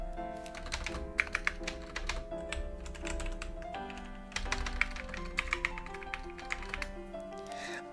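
Typing on a Logitech G910 mechanical keyboard with loud switches: a steady, fast run of sharp clicking keystrokes up close, with no talking.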